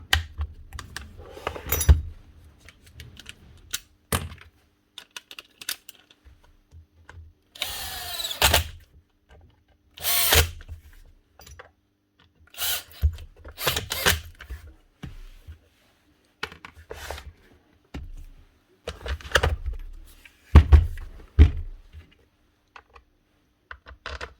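Screws being driven into the plastic and metal housing of a Makita HM0860C chipping hammer, heard as short bursts of whirring and ratcheting separated by quiet pauses, close and fairly loud.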